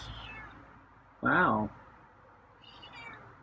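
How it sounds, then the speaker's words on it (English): A feral cat at a house door gives one clear, loud meow with a rising and falling pitch, close by, with someone speaking softly just before it and a quieter, fainter meow-like sound trailing after. "Got a meow."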